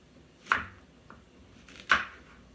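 A kitchen knife chopping vegetables for a vegan pot pie, two sharp, distinct cuts against a board about a second and a half apart with a faint tap between them, close and without speech.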